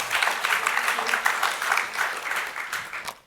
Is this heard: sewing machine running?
no